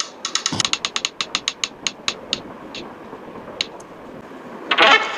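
Lucky prize wheel spinning, a rapid run of sharp ratcheting clicks that slow and spread out as the wheel loses speed, then a few last isolated ticks before it stops; close and fairly clear.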